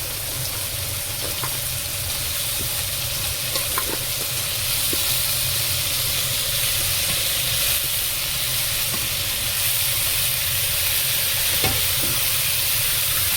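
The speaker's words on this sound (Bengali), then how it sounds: "একটু নেড়ে নেব ভালো করে, নিয়ে দিয়ে দেব পুঁই ডাঁটা আর আলু কেটে রেখেছি" Malabar spinach stems and cut potatoes are stirred in a hot pan, a steady sizzle and hiss of frying running throughout, with faint scraping taps from the stirring.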